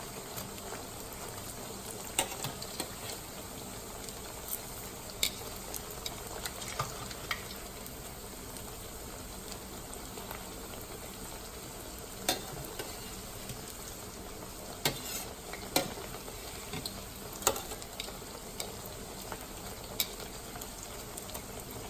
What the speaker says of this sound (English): you don't want to over fry them